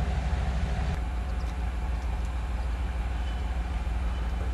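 Trains sit and move in a rail yard near the Latvia–Lithuania border, where passenger trains are refurbished, giving a steady low rumble and broadband noise with faint clanks throughout.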